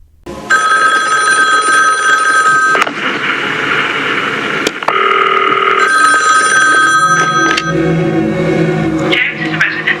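An old-style bell telephone rings in the 1980 horror film Prom Night, loud bursts of metallic jangling separated by short pauses and layered over background movie sound, with no talk.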